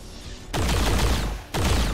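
Two loud bursts of gunfire from XCOM 2: War of the Chosen, each a dense, rattling volley lasting about a second, the second starting right after the first fades.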